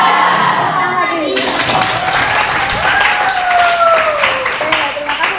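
A class of students applauds a student group in a classroom, the clapping busy and lively while a voice and other talk run over it and a high tone slides faintly across the middle.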